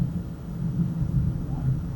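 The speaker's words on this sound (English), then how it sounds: "thundering and really giving us a nice lightning show" Low, steady rumble of thunder from a lightning storm moving in, heard from indoors near a window, a continuous deep roll with no rain.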